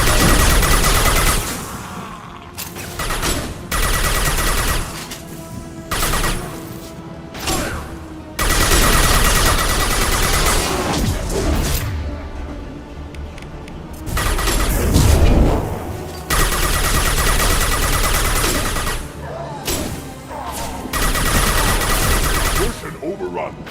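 Squad gunfire in the sci-fi shooter Mass Effect 2, loud, close bursts of automatic weapons and booming blasts in long stretches broken by short pauses, with in-game voices shouting orders in between.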